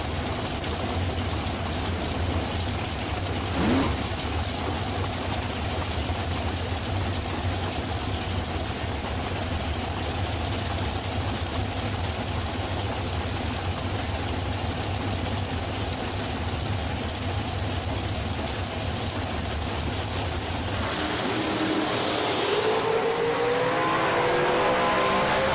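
Drag racing cars at a dragstrip, one a Race Tech dragster, rumble steadily at a distance, then a louder engine roar rises near the end as they launch down the strip.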